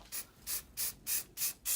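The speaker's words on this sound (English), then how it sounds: "let's see if we can cover it a little bit with the silver spray paint" Silver spray paint hisses from an aerosol can in six short, evenly spaced bursts, close by and alone, with brief quiet gaps between each spray.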